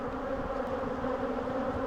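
Honeybees buzzing inside an opened hive holding a virgin queen cell and brood, a continuous close droning hum of many insects, moderately quiet and steady.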